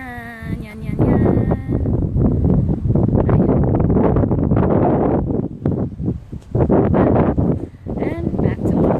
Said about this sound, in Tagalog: Ang lakas pa ng hangin dito sa tuktok.